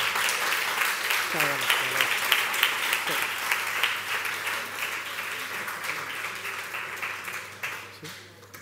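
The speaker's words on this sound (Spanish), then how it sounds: "¿por qué no dar un aplauso a la organización del evento, a todo el equipo?" Applause for the organisers of a youth talent congress, sustained crowd clapping at moderate level over a steady hum, with voices talking briefly through it before the clapping tapers off.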